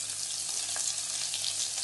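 Chopped onions, curry leaves and dried red chillies fry in hot oil, giving a steady, even hiss of sizzling at moderate volume with no pauses or talk.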